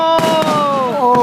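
Fourth of July fireworks burst over Hilo Bay, with sharp booms cracking out between sustained whistling tones.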